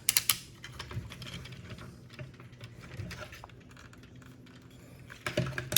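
The ratcheting joints of a metal Cardbot W Heavy Iron W toy click as it is posed, with quick close clusters of small ticks at the start and end and sparser clicks between.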